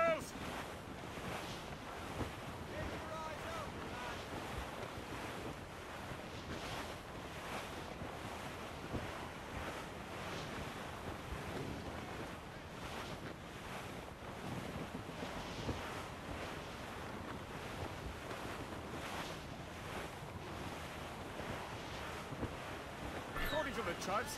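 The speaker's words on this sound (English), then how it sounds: "The wind is picking up!" Wind gusts and ocean surf at sea in Assassin's Creed Rogue, a continuous rushing wash of noise with swelling waves and buffeting wind, loud and unbroken, with faint voices mixed in.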